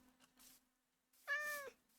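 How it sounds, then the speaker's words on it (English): A single short meow from a cat in the video game Minecraft, quiet and alone after a near-silent stretch. "There's a kitty!"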